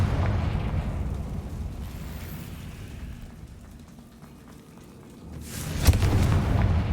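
Fiery spell blasts from a wizarding video game, a rumbling explosive burst early, then a sharp boom with a crackling tail toward the end.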